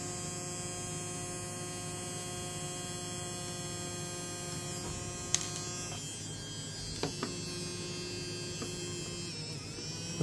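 A small electric motor powered by a boosted ringer circuit runs with a steady buzzing hum throughout, joined by a few faint clicks and ticks near the end.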